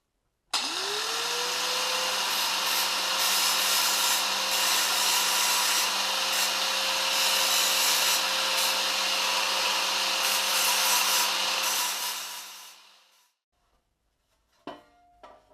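Steady, loud whine of a power sander working a part flat during restoration of a Villiers Panther Model 50, a constant drone with a rising tone at start-up that runs for about twelve seconds before spinning down, followed by a few faint knocks.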